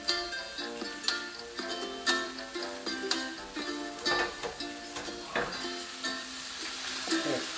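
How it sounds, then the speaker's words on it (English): Meat sizzling and crackling steadily as it fries in oil in a pan for a honey-glazed pork dish, with repeated stirring clatter and utensil scrapes throughout, close and fairly loud. "Stir it just a little bit so that oil goes around it"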